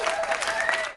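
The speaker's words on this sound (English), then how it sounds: "I just want to give a round of applause" A brief burst of crowd applause, many hands clapping densely for about a second before cutting off abruptly.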